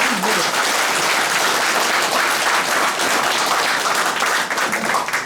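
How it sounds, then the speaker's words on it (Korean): Loud, dense applause fills a hall at a local Korean community gathering, many hands clapping continuously and close for several seconds, with a voice briefly heard at the very start. "큰 박수"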